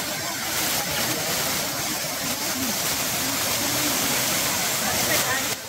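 Waterfall at Monasterio de Piedra in Aragón roars in a dense, continuous rush of falling water, loud and steady, with faint voices of people blending under the torrent.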